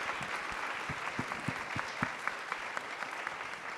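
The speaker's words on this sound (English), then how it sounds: "If we can give our panelists and our moderator a round of applause." Audience at a medical symposium panel on diversity and structural change gives a round of applause for the panelists and moderator, a steady wash of clapping with a few louder, closer claps standing out.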